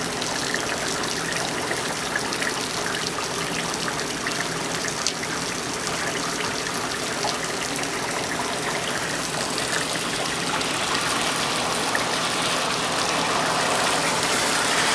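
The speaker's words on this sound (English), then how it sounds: "it is raining like nothing else" Heavy summer rain pours down outside an open window, overflowing the gutters in a steady, dense roar of water that holds without a break from start to finish.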